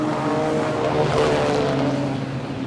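A speedway race car loses its right rear tire and goes into the wall while the field keeps racing, a loud steady roar of engines with a swelling surge in the middle.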